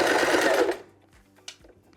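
A sewing machine stitches fabric for underwear in one loud, fast, steady burst that stops abruptly, leaving faint small mechanical clicks in near-silence.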